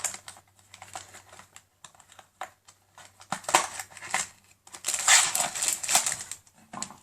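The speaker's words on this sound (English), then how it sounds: "So I'm going to open it now." Crinkly plastic packaging of chocolate cream-filled biscuit sticks being torn and opened nearby, with a series of sharp crackles and rustles that grow busier and louder toward the end.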